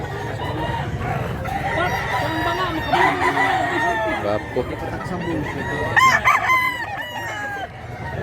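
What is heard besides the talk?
roosters crowing and clucking at a chicken market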